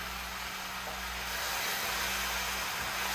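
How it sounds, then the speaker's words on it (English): Guyanese-style gilbaka and snapper curry with fish egg and green mango sizzling in a pot, a steady, close hiss that swells slightly toward the end, with no talk over it. "Ooh, that sizzle"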